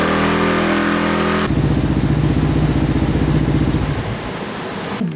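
A restored Honda XR650 motorcycle engine runs through its exhaust pipe, revving loudly then settling into a throbbing, pulsing idle before cutting off near the end.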